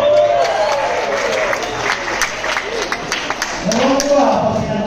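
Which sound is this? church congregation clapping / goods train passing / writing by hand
church congregation clapping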